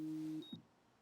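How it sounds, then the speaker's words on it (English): An alarm gives the end of a steady electronic two-tone beep that cuts off after under half a second, leaving quiet room noise with a faint soft thump. "My alarm's going off."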